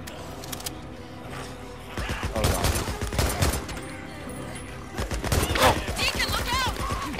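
Rapid video game gunfire from Days Gone, bursts of shots cracking in quick clusters over a busy mix of action sounds, with faint talk underneath.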